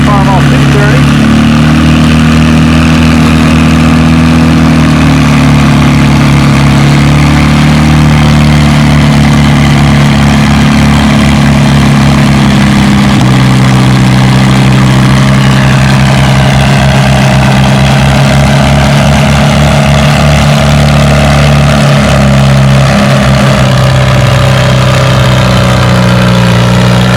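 A Farmall 230 tractor runs at a tractor pull with a 3,000-pound sled class: a loud, steady low engine drone that holds throughout, with an announcer talking over it.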